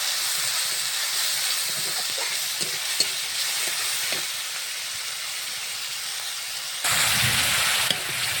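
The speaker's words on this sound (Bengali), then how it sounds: "মশলাটা সুন্দর করে কষিয়ে নেব।" Spice paste with turmeric and salt sizzles steadily in hot oil for a fish curry, with soft stirring scrapes and clicks, then a sudden louder burst of frying near the end.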